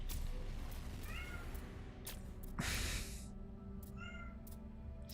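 A cat meows several times, close by, over a steady low background hum with a brief rustling burst in the middle.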